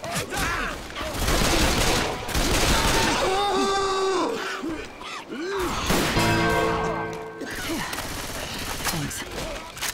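Gunfire in Left 4 Dead 2, rapid bursts of shots crackling loudly and repeatedly under ongoing game sounds, with players' voices chattering over the action.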